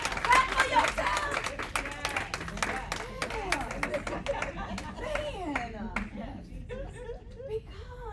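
A crowd at a women's empowerment event bursts into sustained applause, dense clapping with voices cheering and chattering, thinning toward the end into scattered claps and talk.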